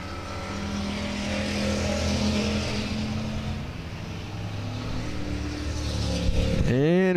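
Race cars scream around the oval at South Texas Speedway, with a steady loud engine drone that rises and shifts as the pack passes, ending in a sharp rising whine as a car sweeps close by.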